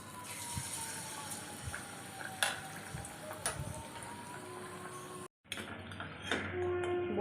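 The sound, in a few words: malpua batter frying in hot oil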